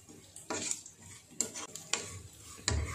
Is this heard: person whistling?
no